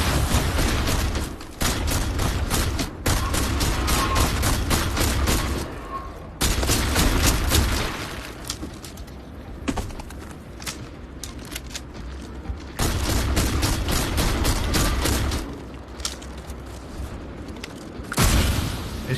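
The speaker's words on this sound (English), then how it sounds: "they're just shooting so much shit at me" Heavy gunfire in Starfield, with dense rapid shots in long bursts and booming impacts across the stretch, loud and close, with brief quieter gaps between volleys.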